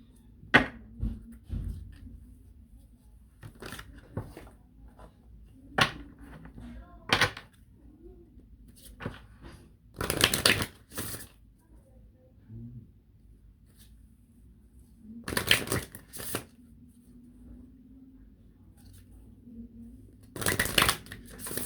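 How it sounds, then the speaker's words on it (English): A deck of Soul's Journey oracle cards is shuffled in short, crisp riffling bursts. Quiet gaps separate the bursts, and a few soft taps and handling noises fall in between. "Now I'm going to pull some Soul's Journey cards."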